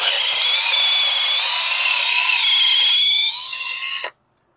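An electric drill bores a hole for the dipstick in an LM4 engine, a loud continuous high whine that holds steady for about four seconds before cutting off abruptly.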